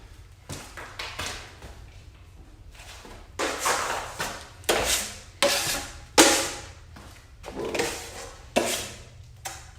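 Joint compound being worked into a drywall corner in a barn garage, a series of scraping, rubbing strokes of a knife over the seam, growing louder and more forceful in the second half over a low steady background hum.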